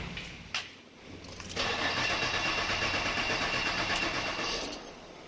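A 2012 Ford Fusion being jump-started after stalling: a brief starter crank, then the engine catches and settles into a steady, loud close idle that holds to the end, with no voices.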